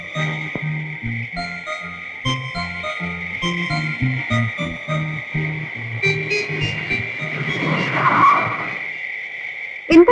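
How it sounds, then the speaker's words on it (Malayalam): A car, registration KLT 203, skids to a stop in heavy rain, its tires squealing in a rising burst near the end, heard over a steady musical background. "എന്താ വണ്ടി നിർത്തിയത്?"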